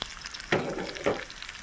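Soybean chunks frying together with potatoes and onions in a pan, a steady close sizzle with two brief louder bursts of stirring, no voices.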